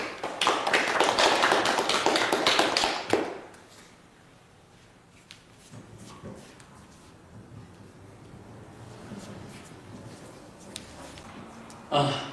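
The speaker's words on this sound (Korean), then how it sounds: "제가 청하지 않아도 이미 박수 다 쳐주셨으니까" Audience applause after a talk by Buddhist monks, a loud dense burst of clapping for about three seconds that cuts off abruptly, followed by quiet room noise and a faint voice.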